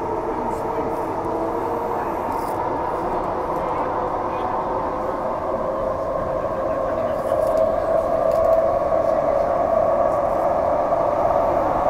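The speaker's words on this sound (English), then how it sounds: "Oh, there goes a train to Mandurah." A train heading to Mandurah passes outside while the listener rides another train in Perth, with a continuous rumbling rail roar and rising hum that swells louder toward the end.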